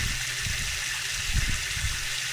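Water being pumped out of a boat's bilge, a steady broadband gushing and splashing flow, close and continuous, with low sloshing underneath.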